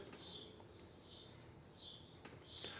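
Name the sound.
birds chirping outdoors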